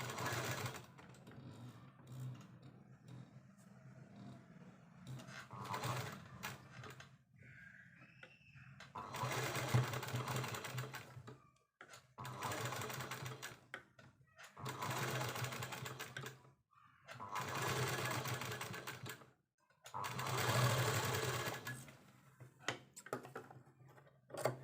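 Sewing machine stitching a simple baby frock, running in repeated bursts of a few seconds each separated by brief pauses, close and steady with its motor hum.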